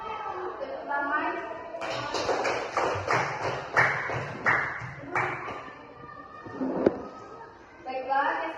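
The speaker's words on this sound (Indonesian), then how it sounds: "Tepuk tangan." Rhythmic group clapping in a classroom, a patterned run of claps in bursts over several seconds with voices chattering around it, then a few scattered taps.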